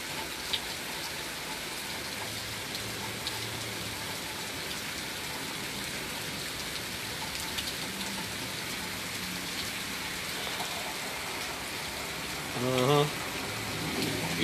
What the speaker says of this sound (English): While y'all watching the rain with me and all that.